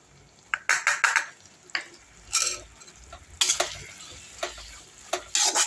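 Tomato and onion sautéing in a pan for beetroot rice, with irregular stirring scrapes and soft sizzling bursts, moderately close and without talk.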